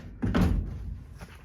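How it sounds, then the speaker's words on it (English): Heavy sliding side door on an early split-window VW bus, rolled and shut with one loud thunk followed by a fading rattle and a faint second knock. "The sliding door,"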